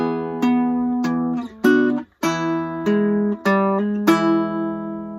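Acoustic guitar playing a riff with hammer-ons, a run of plucked chord notes and single-note slurs ringing clearly in a steady rhythm, heard alone with no talking.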